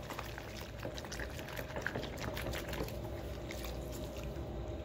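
A cloth face mask is scrubbed by hand in soapy water with small side-to-side motions, giving a steady close sloshing, squishing and bubbling wash of liquid noise with no talking.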